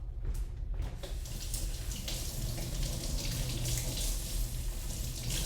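A kitchen tap runs steadily while a large Honeycrisp apple is washed under it, a continuous close splashing stream that starts after a brief quiet moment and carries on alone.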